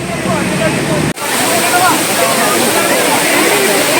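A Munnar waterfall in the dry season roars as a dense, steady rush of falling water, briefly cut off for an instant before continuing loud and close.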